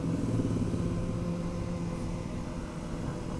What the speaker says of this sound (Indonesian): Dan ini aku pakai knalpot yang Takashi DB Killer teman-teman, atau Takashi peredam, jadinya nggak bacot banget.